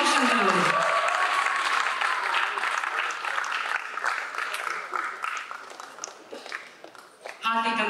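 An audience at a film critics' award ceremony claps in a broad, steady wave that fades gradually, with a voice talking briefly at the start and end.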